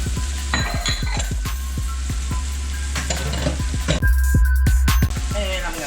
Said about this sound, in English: I'm gonna saute some onions.